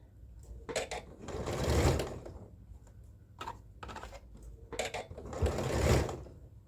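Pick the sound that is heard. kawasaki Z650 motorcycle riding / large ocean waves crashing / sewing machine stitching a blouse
sewing machine stitching a blouse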